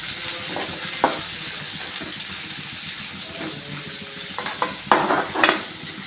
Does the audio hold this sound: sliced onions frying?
yes